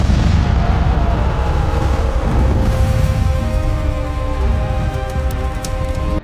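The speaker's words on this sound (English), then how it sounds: "Through the night, the bombing never stopped." Continuous heavy wartime bombing and artillery fire over a city at night, a dense, loud rumbling roar of blasts merging together without pause.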